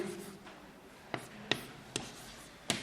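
Chalk or pen taps and scratches while an equation for a vector dot product is written out, giving several short sharp strokes at a close distance over a quiet background.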